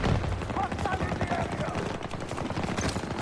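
Battlefield 2042 gameplay firefight with rapid, dense gunfire crackling continuously at close range, layered with game effects and busy background noise.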